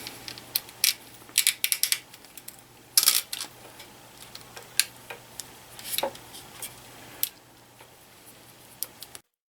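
Small metal clicks and ticks as a retaining bar is snapped back onto a ProVis Mark V Plus head cable assembly, a scattered run of sharp close taps with brief pauses and no talking.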